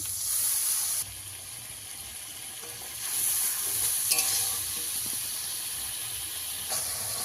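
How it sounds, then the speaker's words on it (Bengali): A spice masala of turmeric and chili powder with spiced water fries in a pan, hissing loudly and steadily, with the sizzle dropping and then surging again as it is stirred. No one speaks. "মশলাটা ভালো করে কষিয়ে নেব"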